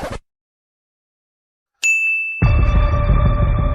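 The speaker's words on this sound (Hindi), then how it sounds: "अरे एक और नोटिफिकेशन आ गया।" A phone notification chime gives a single bright, clear ding after near-silence, followed by steady background noise that continues to the end.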